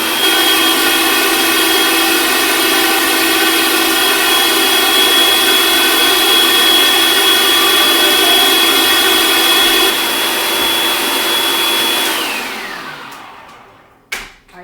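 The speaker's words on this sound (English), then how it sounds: "we're going to start blending it up, and you're going to slowly stream in your olive oil" A blender runs at high speed pureeing taco sauce ingredients as olive oil streams in, a loud steady whine holding for about twelve seconds before spinning down and stopping, followed by a brief knock.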